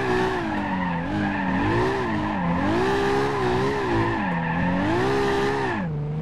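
A Toyota Supra drifting sideways down stairs in BeamNG.Drive, with a continuous wavering tire squeal and engine drone that rise and fall steadily for several seconds before cutting off.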